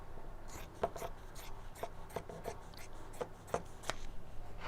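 Scissors snip through fabric in faint, quick, irregular cuts, close by and quiet against a soft background hiss.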